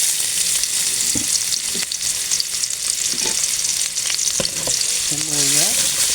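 Garlic and onion sizzle steadily in a hot pan while a utensil scrapes and stirs now and then, with no talking over the continuous frying hiss.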